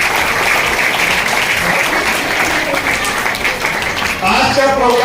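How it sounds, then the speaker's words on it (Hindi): A crowd at a motivational speech event gives a loud, dense burst of applause that holds steady throughout. A voice begins to rise over the clapping near the end. "एक जोरदार तालियां आपके लिए।"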